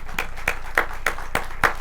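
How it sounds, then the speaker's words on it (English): Audience at the 2022 Nanih Waiya Day Mound Ceremony claps for the new princess of the Mississippi Band of Choctaw Indians; six sharp, evenly spaced claps ring out close and loud in a slow rhythm. "I also would like to give another round of applause for Miss Cadence Rain Nicky"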